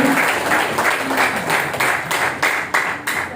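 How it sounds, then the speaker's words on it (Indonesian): An audience claps for a founder and his wife at a gathering, a fairly steady applause with rhythmic bursts of louder claps recurring through to the end. "Tepuk tangan lagi Bapak-Bapak Ibu Nur"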